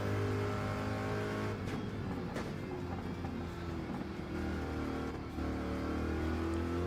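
A race car engine in Gran Turismo 7 drones steadily at the Red Bull Ring, holding a low constant hum with brief revving shifts as the car enters the pits.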